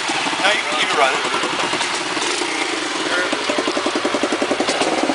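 A rented ATV on Isla Ometepe idles close by with a steady, throbbing putter, while people talk over it.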